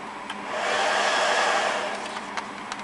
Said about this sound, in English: Okay, the fans kick on.